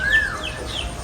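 Birds at an exotic bird farm in Nakhon Nayok, Thailand, call out, with a clear rising-and-falling whistle near the start followed by softer chirps over a background of outdoor ambience, with no talking.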